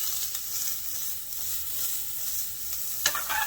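Corn kernels tossed in a hot pan for a lobster corn salad, giving a steady close sizzle and hiss with a soft clatter near the end.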